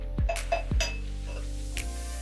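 A real glass dome set over the head of a Sideshow Mr. Freeze polystone premium format figure, giving a few close, bright glassy clinks and taps in quick succession, then a final light knock.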